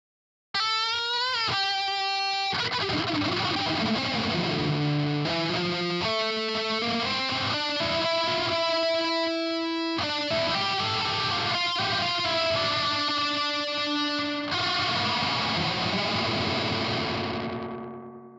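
An electric guitar plays a distorted, sustained riff through the Audio Assault Dominator amp simulator plugin with a washy reverb tail, loud and continuous, fading at the end.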